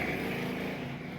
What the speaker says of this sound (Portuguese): Deixa eu passar aqui essa moto